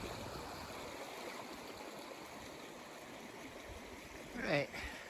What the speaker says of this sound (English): just crossed the creek